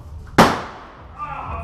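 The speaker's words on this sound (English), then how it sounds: "I see your grenade and I raise your grenade!" A single sharp airsoft grenade blast pops loudly and close by, then a short hissy decay trails off, with faint background noise afterward.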